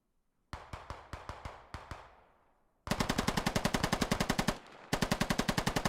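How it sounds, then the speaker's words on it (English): Gunfire in a military video game battle: a burst of separate loud shots that fade into echo, then dense rapid machine-gun fire in two long volleys with a short pause between, very loud and close. "Shots being exchanged."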